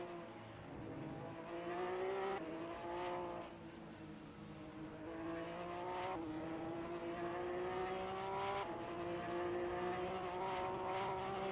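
Several GT3 race cars in a sim racing game lap Oulton Park with steady, loud engine drone, pitch rising and falling through gear changes and corners, no talk.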